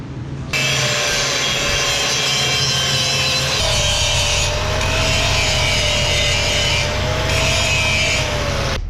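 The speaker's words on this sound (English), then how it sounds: "Now I gotta actually grind it down so that it fits in there nice." An angle grinder grinds down a weld on a go-kart torque converter for an 18 hp kart, a loud continuous metallic whine with harsh scraping that shifts in pitch partway through, close and sustained.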